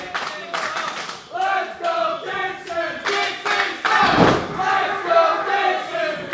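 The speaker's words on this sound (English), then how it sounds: "As you hear this crowd trying to get behind him" A wrestling event crowd at Future of Honor 2019 chants and cheers in loud rhythmic bursts, with rising and falling waves of voices and some clapping, filling the hall.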